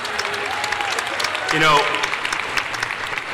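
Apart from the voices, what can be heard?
commencement audience applauding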